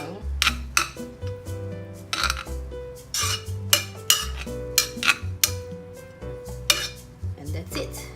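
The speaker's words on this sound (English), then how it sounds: "You can fluff the quinoa and just stir it around." A spoon scraping and knocking against a metal pot while cooked quinoa is fluffed and stirred, a series of close clinks and scrapes in an irregular rhythm, with a faint hum underneath.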